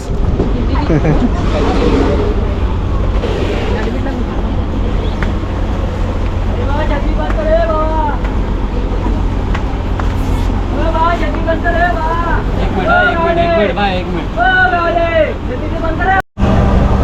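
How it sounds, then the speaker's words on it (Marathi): A passenger ferry from Mumbai to Mandwa runs with a loud, steady engine rumble throughout. Many passengers chatter over it, and high-pitched calls or birdlike chirps rise near the end. "आमची बोट सुरू झालेली आहे मांडव्याच्या दिशेने निघायला."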